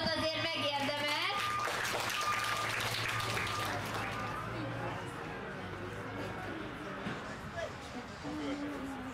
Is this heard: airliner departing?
no